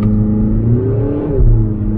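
A Cupra Formentor with a 150 hp diesel engine pulls away hard under launch control, a loud close engine drone that climbs steadily in pitch through the gears, heard from inside the car with no talking.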